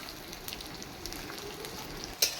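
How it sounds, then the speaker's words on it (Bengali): Whole garlic cloves frying in hot oil in a home kitchen, a steady close crackling sizzle with scattered pops and one brief sharper spatter near the end. "মা আসলে গোটা রসুন রেখেছিল তেলে দেওয়ার জন্য, ভুলে গেছে, তাই এখন গোটা রসুনটা সাইডে দিয়ে একটু ফ্রাই করে নিচ্ছে।"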